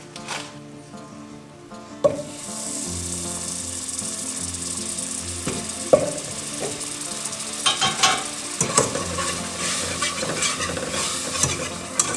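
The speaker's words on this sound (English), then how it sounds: "I'm going to go ahead and add my butter right now too." Butter and flour cook in a pan on low heat while being stirred for potato soup, a soft steady sizzle broken by scraping strokes and a few sharp clinks of a utensil against the pan.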